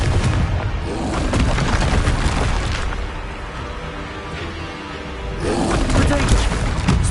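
The Confringo blasting spell in Hogwarts Legacy bursts into loud booming explosions amid ongoing combat, with heavy rumbling blasts at the start and again near the end, and voices talking through the fight.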